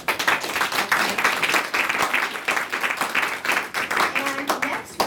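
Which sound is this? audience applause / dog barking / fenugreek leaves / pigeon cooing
audience applause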